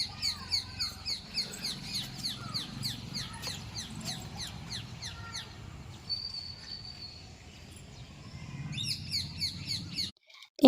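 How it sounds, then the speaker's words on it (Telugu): Small birds chirp and tweet repeatedly on a rooftop terrace during the rainy season, with quick bright calls overlapping close by against a soft outdoor hum, ending with a sharp thump. "ఇక్కడ బర్డ్స్ ఎక్కువ ఉంటాయి కాబట్టి వాటి సౌండ్స్ అవి వినిపిస్తూ చాలా బాగుంటుంది"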